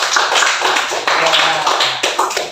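A classroom of students applauding together during an Islamic religious education lesson: a steady, dense patter of many hands clapping at once, fairly loud and close, with some voices mixed in.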